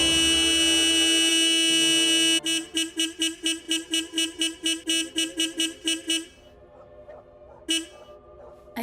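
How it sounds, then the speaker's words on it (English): A car horn in The Amazing World of Gumball cartoon blares in one long held blast, then breaks into a rapid run of about fifteen evenly spaced honks, followed by quieter scattered tones, loud and up close. "Richard ruins it by non-stop honking"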